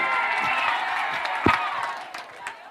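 Crowd at a live engagement event for artists and content creators with a deputy president, clapping and cheering for an MC across the stretch, broad steady applause with a sharp whoop near the middle.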